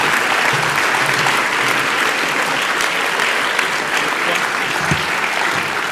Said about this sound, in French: Un tonnerre d'applaudissements pour Alain et pour Christian.